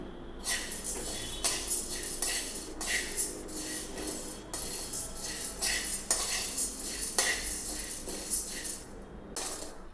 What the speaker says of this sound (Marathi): त्यानंतर आपण भगर पण भाजायची